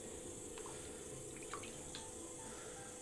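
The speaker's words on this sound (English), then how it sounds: "a little bit more water on the base" Water trickles onto clay on a pottery wheel during a demonstration, a few soft splashes and drips over a steady, fairly loud whirring hum from the wheel.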